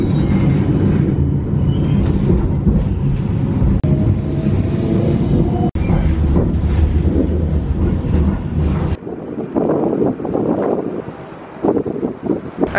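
A train at Amsterdam Central Station rumbles and rolls steadily past, loud and near, with wind buffeting the microphone before the noise drops to a lower, uneven din.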